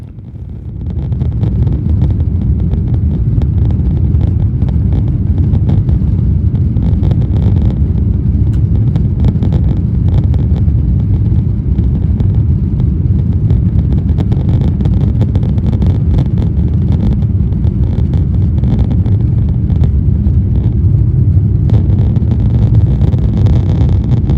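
Cathay Pacific Airbus A350-1000 taking off from Hong Kong's runway 07 right, heard from inside the cabin as a loud, steady low roar of engines and rushing air that holds for the whole stretch.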